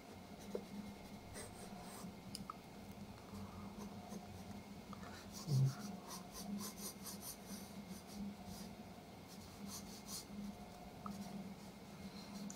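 A soft 10B pencil sketches on B4 paper in a steady stream of quiet, gritty scratching strokes, close up, with one brief louder tap partway through and occasional faint rustles.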